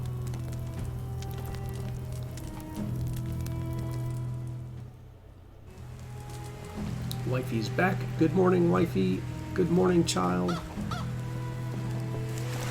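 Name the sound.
rain in the video game Medieval Dynasty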